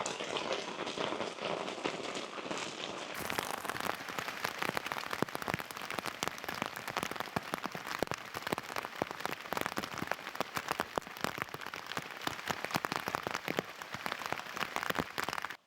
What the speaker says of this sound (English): that was a mega shower